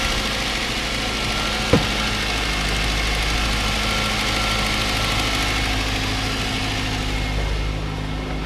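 A 2005 Ford Focus engine idles steadily for several seconds, a constant, close mechanical drone with a faint vibration, one brief knock early on and no talking.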